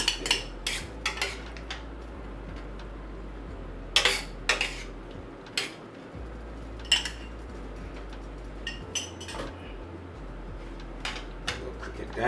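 Vegetables and king oyster mushrooms stir-fried in a pan make a run of clattering utensil scrapes and knocks against the metal over a low sizzle, with short pauses between strokes.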